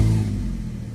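A Ford Mondeo ST220 engine starting up with a strange noise, heard close as a steady low rumbling idle that eases slightly in loudness over a second, with no talking.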